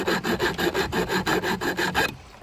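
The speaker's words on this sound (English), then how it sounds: "Just file all those down." A hand file rasping along the sharp edges of a metal sign, about ten rhythmic close-up back-and-forth scrapes in steady succession, stopping abruptly at the end.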